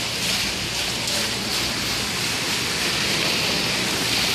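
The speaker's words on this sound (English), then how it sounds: "It's a waterfall." Steady rushing waterfall in a fishing video game, a constant broad wash of falling water at even loudness throughout, with no voices.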